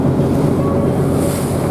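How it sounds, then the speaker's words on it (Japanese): Sea waves washing around a fishing boat at a harbor boat festival, a loud continuous rush of surf mixed with heavy wind buffeting the microphone, no talking. "波も結構ありますね。"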